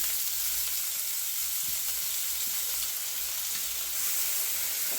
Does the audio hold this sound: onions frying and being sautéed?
yes